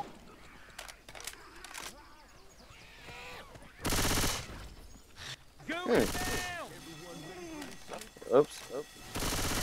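Bursts of gunfire in Left 4 Dead 2, including a loud sustained volley and scattered shots, mixed with game effects while players talk over it.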